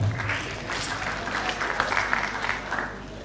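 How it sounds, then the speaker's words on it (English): An audience at a university freshers' orientation breaks into a burst of hand clapping, a dense steady patter that holds for a few seconds before thinning out at the end. "Wow, a big hand clap."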